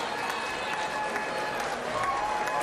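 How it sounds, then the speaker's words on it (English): A large crowd at a Tasmanian election night event keeps up a dense, constant roar of chatter and scattered clapping. A voice speaks over the steady hubbub. "There's obviously a large and noisy crowd here at the moment"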